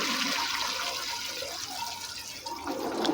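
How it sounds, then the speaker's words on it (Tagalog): The first coconut milk is poured into a cooking pot of softened papaya, giving a continuous splashing, gushing liquid sound that runs steadily for a few seconds. "lagyan na natin yung unang gata"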